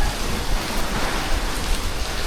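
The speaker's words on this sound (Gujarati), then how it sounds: "જોવો એટલો વરસાદ ઉપર પડ્યો છે કે કંઈ અંધારું છે આવ દેખાતું જ નથી" Heavy rain pours at Pavagadh Mahakali Temple as a dense, steady hiss that stays even throughout, with no voices over it.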